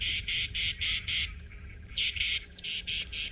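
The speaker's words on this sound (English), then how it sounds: "A little bit of a loud chirping sound." Loud, close bird chirping in rapid repeated bursts, steady rhythmic notes with a brief shift in pattern midway, over a low background rumble.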